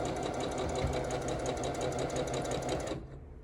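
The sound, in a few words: sewing machine stitching quilt pieces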